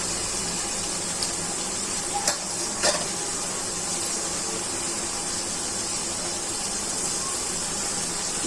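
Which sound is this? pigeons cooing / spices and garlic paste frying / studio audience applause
spices and garlic paste frying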